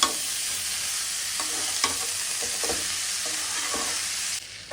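Dumur (fig) pieces sauté with shrimp and spice paste in a pan, a steady close sizzle broken by several scraping stirs of the spatula before the frying noise drops away at the end.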